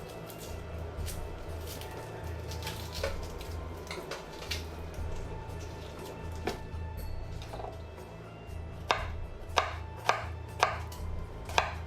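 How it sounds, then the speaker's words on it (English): Knife chopping through an onion on a cutting board, a steady run of sharp close taps that quicken into louder, distinct chops near the end over a low room hum. "We're going to go ahead and cut this onion without cutting the bulb"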